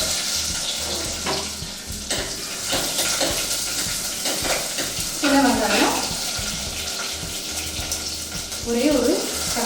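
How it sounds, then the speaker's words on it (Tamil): Small onions go into hot oil where mustard seeds and fenugreek have already popped, cooking a seer fish curry. Steady close frying and sizzling continue with stirring noises and brief voices in the background. "இப்போ வெந்தயமும் கடுகும் நல்லா பொறிஞ்சிருச்சு நான் இப்போ சின்ன வெங்காயம்"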